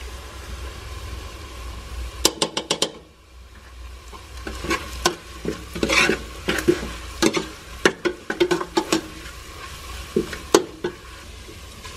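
Onions browning in a pan with turmeric, sizzling steadily while a spoon or spatula scrapes and stirs in sharp clusters of clinks and scrapes, close and fairly loud, with no talking.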